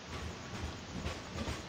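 A train rolls along in a farming video game, a steady low rumble with soft rhythmic clacks, heard moderately quiet and unaccompanied by talk.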